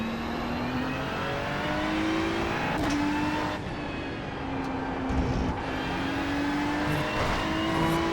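A GT3 race car in a racing video game at Spa holds a steady engine drone at high revs, with brief gear-shift dips and pitch sweeps as it carries speed through the lap.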